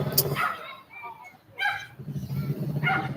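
A small dog gives a few short, high yips and barks spread over a few seconds, fairly close, with a low background hum.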